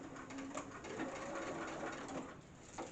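A sewing machine stitches Velcro onto a robe tab, a faint, steady mechanical whirr with a rapid rhythmic chatter running continuously at a distance.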